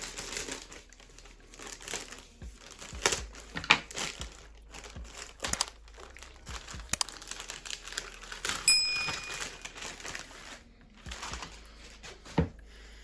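Plastic packaging crinkles and rustles in irregular bursts, with sharp snaps and tearing noises, close by and fairly quiet.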